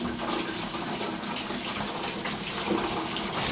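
Boiling hot water runs steadily from a tap to rinse home-brew beer equipment, a continuous broad hiss and splash that stays loud and close with no pauses.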